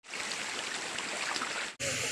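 Stream water flows steadily with a broad, continuous rushing wash at close range, then cuts briefly and resumes just as loud near the end.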